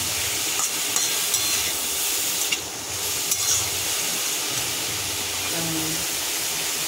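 A spoon stirring papaya plastic chutney in a hot pan, a steady sizzling hiss with scraping strokes and a few brief clinks, continuous and close.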